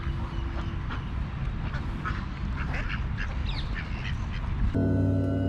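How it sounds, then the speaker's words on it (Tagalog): Ducks by the Yarkon River in Israel quack repeatedly in a noisy outdoor scene, several nasal calls overlapping over a constant wash of running water and background noise, with a sudden tonal hum cutting in at the end. "Ito yung mga kaibigan ni Donald Duck"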